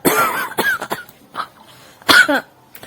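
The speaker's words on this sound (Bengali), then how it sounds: "কাশি" A person coughs several times in short, rough bursts, with brief pauses between them, close and fairly loud in a quiet indoor setting.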